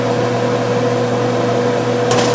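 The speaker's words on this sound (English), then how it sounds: "Now, I can turn this fan off because I've turned down the cooking here." A kitchen exhaust fan runs over a stove where homemade three-berry jelly is cooking, giving a steady, even mechanical drone with a constant hum and no talking.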